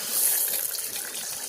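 Tap water runs steadily into a sink, filling and splashing, ready for washing raw chicken with vinegar; a close, continuous gushing hiss with no voices.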